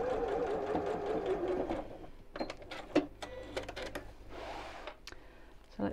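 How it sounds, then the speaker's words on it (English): Sewing machine stitching around the edge of a fabric wine glass coaster, a steady rapid needle chatter in bursts with short pauses, close and clear, with faint handling sounds between runs. "So I'm sewing all the way around until I get back to the section that I've already sewn"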